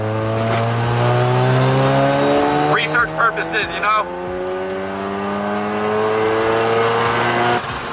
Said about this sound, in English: I have to do a massive third gear pull right now